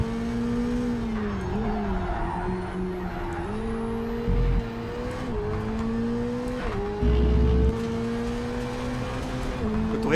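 A Ferrari SF90 Stradale's engine screams at high revs around the Zolder circuit in Project CARS 3, its steady, loud drone dipping briefly as it bounces off the rev limiter, with faint tire noise beneath.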